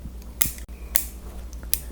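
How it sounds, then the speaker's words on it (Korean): Garden scissors snip leaves off a diseased houseplant in an apartment home garden, three sharp crisp cuts spaced about half a second apart, close and quiet against a faint background hum. "가위나 절단 도구를 이용해서 잎을 제거해 주시면 됩니다."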